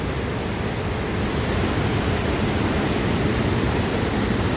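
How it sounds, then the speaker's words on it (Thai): A steady, loud roar of rushing water pours without pause, a dense, even wash heard up close at Tat Ton Waterfall in flood season. "เสียงน้ำครับบุ่นบุ่นอยู่"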